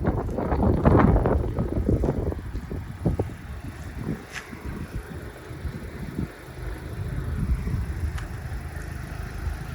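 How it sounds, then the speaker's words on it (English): Gusty outdoor wind buffets the microphone in loud rumbling bursts near the start, then settles into a softer steady roar, with no talk. "The wind's picking up."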